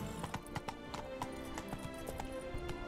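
Horse hooves clip-clopping in The Witcher 3: Blood and Wine video game, a steady brisk rhythm of sharp hoof strikes over faint background game sound.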